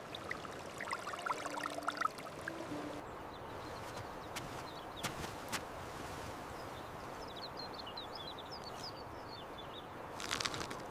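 Cool fresh water pours in a quiet rural Hindu Kush setting in Afghanistan, a faint, even wash of flowing water that carries on throughout, with soft outdoor background sounds and no talking.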